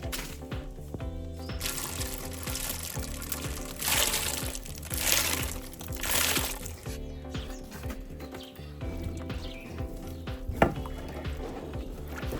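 Boiling water bubbles and hisses in a pot while it is stirred, with soft scraping and occasional clinks of a utensil against the metal.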